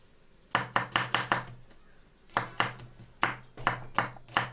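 Onion chopped by hand on a board for menemen: quick bursts of crisp knife strikes in clusters of four to six, with short pauses between runs, close and clear with no talking.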